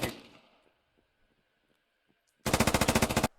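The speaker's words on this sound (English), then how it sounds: "This saw gunner still up here on the catwalk laying down fire." Burst of SAW light machine gun fire in the video game Squad, a rapid string of about a dozen loud, evenly spaced shots near the end, after a faint decaying earlier shot and near silence.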